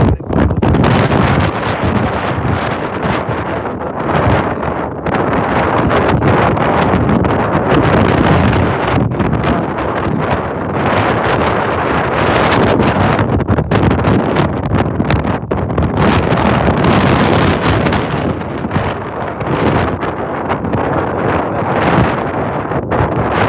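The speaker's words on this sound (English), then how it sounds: "Wind is very bad." Strong wind buffets the microphone outdoors in a storm during metal detecting in New York City, a loud, continuous roaring rumble with gusty surges throughout and no speech.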